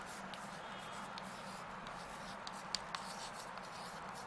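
Pen scratching steadily across paper while a letter is written, a faint continuous rasp with a couple of small taps, low and close with no talking.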